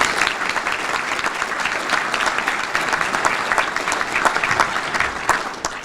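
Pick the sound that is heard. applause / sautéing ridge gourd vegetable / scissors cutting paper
applause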